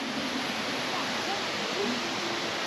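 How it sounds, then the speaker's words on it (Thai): A waterfall at Chiang Dao in northern Thailand pours as a steady broadband roar. The wash of water fills the whole moment without pause. "นี่ข้างหลังมันเป็นน้ำตกนะ"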